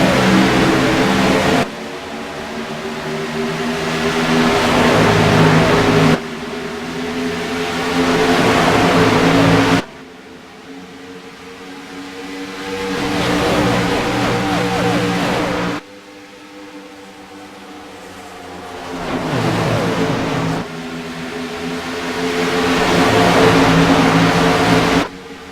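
Race cars in a Wounded Warrior Cup Series event accelerate away at the green flag at Charlotte Motor Speedway, engines roaring and rising in pitch in loud surging waves as groups pass and fade, then build again.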